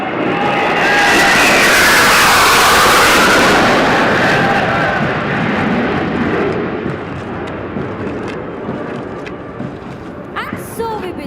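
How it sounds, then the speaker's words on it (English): Three Su-30 fighter jets roar past over a passing out parade ground, a loud broad jet rush swelling early then fading into a distant rumble, with a public-address voice and crowd noise underneath. "You can see 3 Su-30 aircrafts approaching the quarter deck."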